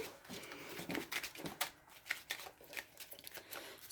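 Tarot cards are shuffled and drawn by hand, giving quick, close, crisp riffling and flicking bursts in an uneven rhythm, fairly quiet and with no talk.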